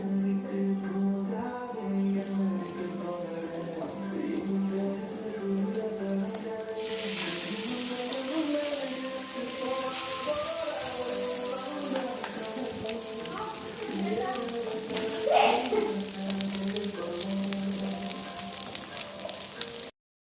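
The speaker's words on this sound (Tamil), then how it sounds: "மீன் வறுத்துக்கலாம்" Fish fries in a pan of hot oil with a continuous close sizzle that swells louder partway through and keeps crackling steadily to the end.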